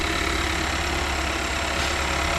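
Mercedes CLA 200 engine idling steadily right after assembly, a close, continuous low hum with an even rumble and no voices.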